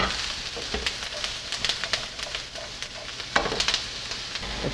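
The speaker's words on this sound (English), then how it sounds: "Saute your vegetables for about 8 to 10 minutes" Vegetables for a traditional Niçoise ratatouille sautéing in a pan, a soft sizzle broken by irregular clinks and scrapes of stirring, fairly quiet and close.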